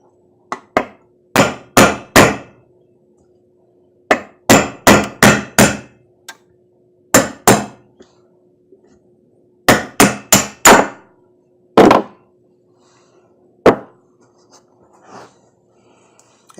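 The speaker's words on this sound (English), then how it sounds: "use a punch or a screwdriver and a hammer and tap the old bushing out" A hammer drives a punch against an old, worn lawn mower wheel bushing on a workbench, sharp metallic taps landing in quick clusters of two to four with pauses between, loud and close.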